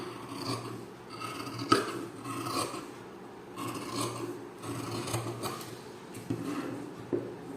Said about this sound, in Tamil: இப்போ நான் கட் பண்ணிவிட்டு காட்டுறேன்.